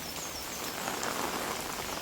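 Steady rain pours down in a dense, even hiss, close by and continuous, with no voices or breaks.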